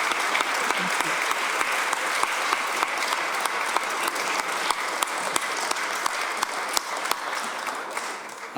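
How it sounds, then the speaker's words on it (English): A gentle round of applause rises from an audience after an interview with a forestry company CEO, a steady wash of many hands clapping that lasts several seconds, with a few sharper claps standing out. "I think we might give her a gentle round of applause"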